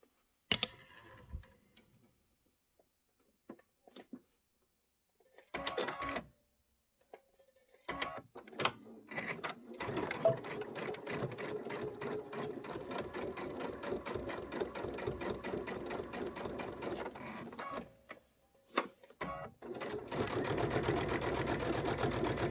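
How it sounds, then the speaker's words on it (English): A domestic sewing machine stitches pieces of a Kimberbell Candy Corn Quilt Shoppe quilt together, starting with a few short stop-start bursts and then running in a long, steady, close-up whirring stretch before pausing and starting again. "I'm just going to kind of hold it together and sew."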